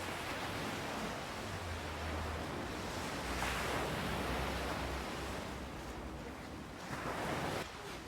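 Ocean surf washes continuously onto a beach, a broad hiss with gentle swells and a stronger wave breaking midway, distant and steady with some wind and no voices.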